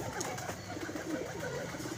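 Pigeons at a pigeon club coo softly and continuously under a dense, noisy background, with low murmuring calls overlapping throughout.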